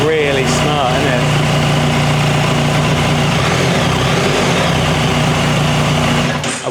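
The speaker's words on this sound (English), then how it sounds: "But the tone of the engine is very different than the 1250." A 2024 BMW 1300 GS Adventure motorcycle engine idles close by, a loud steady throbbing hum with a brief rev at the start, running beneath people talking.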